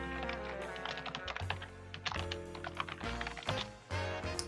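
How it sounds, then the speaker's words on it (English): Typing on a computer keyboard, a quick irregular run of light clicking keystrokes with short pauses, close but fairly quiet, with no talking. "I just realized if anyone heard my typing"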